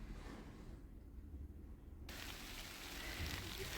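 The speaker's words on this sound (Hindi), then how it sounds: "बारिश शुरू होने लग गई है, थोड़ी थोड़ी बारिश पड़ गई।" Light rain falls steadily in a rural Himachal Pradesh village at Mandi, a soft broadband patter that thickens partway through and stays continuous, with no voices.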